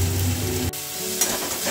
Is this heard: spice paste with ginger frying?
yes